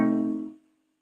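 A single acoustic guitar chord in C rings out close and clear, then decays to silence within about half a second.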